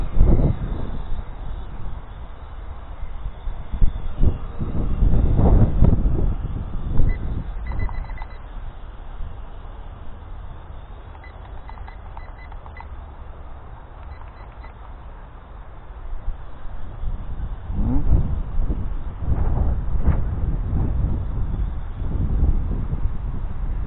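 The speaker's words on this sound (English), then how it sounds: "Too bad for this wind." Strong gusts of 30 to 40 km/h wind batter the microphone of a small HJHRC HJ96 4K drone flying outdoors, a loud rumbling buffet that surges and fades in waves, heaviest at the start and again near the end.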